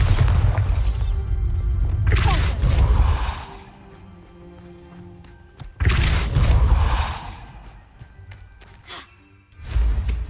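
Bombarda blasting spells exploding in the Hogwarts Legacy video game on PS5: several heavy, booming blasts with rumbling tails, three or four loud bursts separated by quieter stretches, with no voices.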